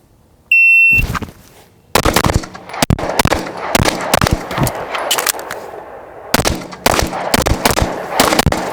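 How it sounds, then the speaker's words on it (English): A ported Smith & Wesson M&P pistol fired out of an Axis Elite holster in a shooting drill: a shot timer's beep, then loud, sharp gunshots nearby in quick bursts, with a short pause midway before another rapid string. "I'm shooting my ported M&P out of an Axis Elite"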